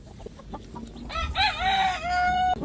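A rooster crows close by in a long, loud call, a brown chicken clucks faintly before it, and other fowl murmur in the background of a farmyard pen.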